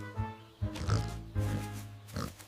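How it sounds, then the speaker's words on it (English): A cartoon pig on a farm oinks in a run of short, loud, nasal grunts, several in quick succession, close and prominent, with no other voices in between. "Oink, oink, ready."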